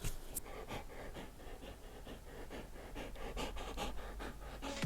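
A dog named Corson panting heavily on a hot day, rapid rhythmic breaths close up and steady throughout, with nothing else audible.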